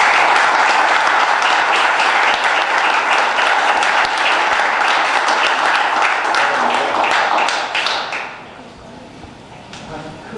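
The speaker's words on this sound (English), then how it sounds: "If everyone could please give them a big round of applause." Sustained applause from the audience at a municipal board meeting as award recipients are honored, a steady dense patter of many hands clapping that carries for about eight seconds, then fades to a few scattered claps.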